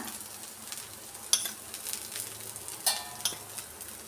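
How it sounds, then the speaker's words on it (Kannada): Onion dosa frying on a hot pan just after oil goes in, giving a continuous close sizzle with crackling bursts and a few scraping clinks of a utensil against the pan. "ಈಗ ಸ್ವಲ್ಪ ಆಯಿಲ್ ಸೇರಿಸೋಣ"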